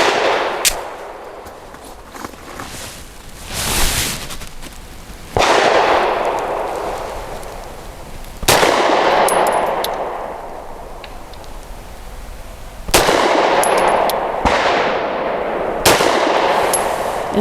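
Grand Power P1 Ultra pistol firing Norma monolithic hollow point 108 grain rounds outdoors, a series of sharp, loud shots at uneven spacing, several close together, each followed by a lingering rumbling echo.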